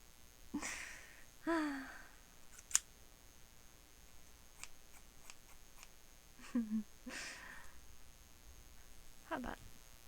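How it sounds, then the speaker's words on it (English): Hair-cutting scissors snip and click near the ear in a quiet, intimate makeover setting, a few scattered crisp metallic cuts and ticks with soft breathy sounds between them and no speech. "I even got some scissors"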